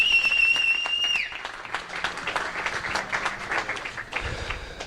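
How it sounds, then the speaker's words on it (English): Applause breaks out at a poker tournament's main event final table as the winner is announced, scattered sharp claps from a modest crowd following a fading electronic tone, moderately loud with no talk over it. "give a massive round of applause, please, for the main event winner, Mr. Keith Johnson."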